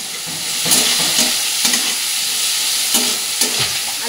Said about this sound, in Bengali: আলু বেগুন ভাজা ভাজা হয়ে এসছে